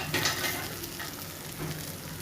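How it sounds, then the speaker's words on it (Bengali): Raw green banana bhaji frying on low heat in a pan while being stirred, a soft close sizzle with light scraping of the utensil, brief and steady. "আবার একটু নাড়াচাড়া করে দিলাম"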